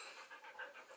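A dog panting close by in quick, even breaths, soft and fast with a light rasp, alone and quiet.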